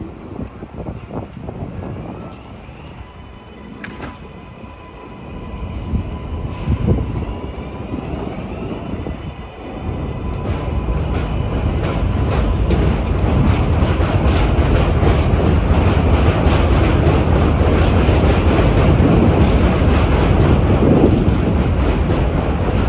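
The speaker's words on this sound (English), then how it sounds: "here comes an express" A New York City 7 line express subway train rushes past at twilight, its roar swelling into a loud, steady rumble that drowns out the quieter background.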